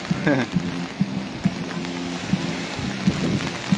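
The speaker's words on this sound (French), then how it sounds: "si vous entendez la pluie" Steady rain patters on a surface with a soft wash of drops, broken by regular dull knocks, fairly close.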